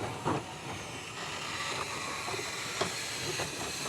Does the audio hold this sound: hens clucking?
no